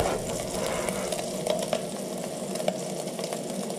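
Shallots and garlic fry in a pan with bacon for a carbonara, giving a steady close sizzle with faint crackles and occasional stirring scrapes throughout, no talking.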